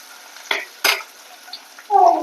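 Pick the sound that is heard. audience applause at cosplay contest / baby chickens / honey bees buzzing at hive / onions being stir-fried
onions being stir-fried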